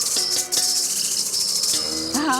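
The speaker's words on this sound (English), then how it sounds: "Oh, it's just a cricket." A cricket chirping at night, repeated high thin pulsed chirps close by over a steady background hum, ending with a brief rising tonal sweep.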